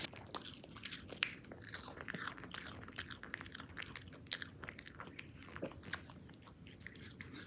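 A dog chews and crunches a treat up close, a continuous run of wet bites and crunchy mastication at a fairly quiet level with no talking.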